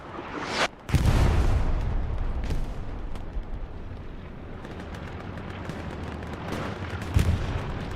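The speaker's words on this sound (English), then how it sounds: "it looks like a tank actually blew up" A tank blows up in the Hell Let Loose World War II battle game: a sudden heavy blast, followed by further booming detonations and distant gunfire over a constant rumbling battlefield backdrop, with a final loud burst near the end.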